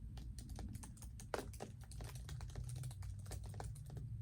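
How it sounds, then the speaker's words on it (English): Quick typing on a computer keyboard during an interview, rapid crisp key clicks in an uneven rhythm with one louder keystroke, close and clear. "let me just type in your information."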